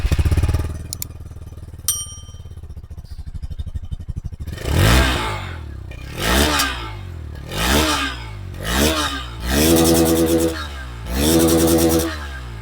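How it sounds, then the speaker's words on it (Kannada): A stock-exhaust Hero XPulse 200 motorcycle starts with a few clicks and a brief crank, then idles close by and is blipped repeatedly, with about five rising-and-falling revs spaced roughly a second or two apart. "ಸ್ಟಾಕ್ ಎಕ್ಸಾಸ್ಟ್ ನೋಟ್ 2 ಎಕ್ಸ್ಪಲ್ಸ್ 200 ಯಾವ ಥರ ಇದೆ ಅಂತ ಕೇಳಿ"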